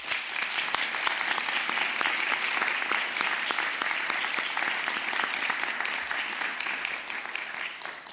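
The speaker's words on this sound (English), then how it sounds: "Let's give them a round of applause." Audience applauding at a college honors program cording ceremony, steady dense clapping held throughout at moderate level, tapering slightly at the end.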